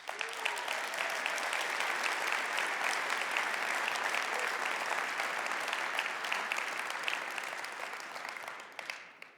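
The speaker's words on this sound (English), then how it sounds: "Please join me in giving them a big round of applause." A large keynote audience applauds, dense sustained clapping that swells quickly, holds steady for several seconds, then tapers off at the end, filling the room without any speech over it.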